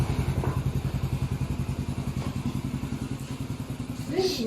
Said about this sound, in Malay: Baby naik motor.